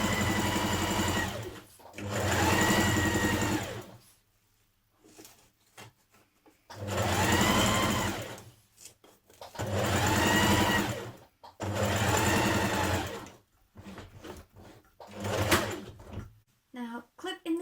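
A sewing machine stitches around coat pockets in five or six separate bursts, each running a couple of seconds, with quiet pauses and small handling noises between them, close up.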